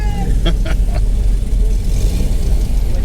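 A Porsche 356C engine hums and rumbles steadily while driving with a manual clutch, a low continuous drone with brief tonal chirps near the start.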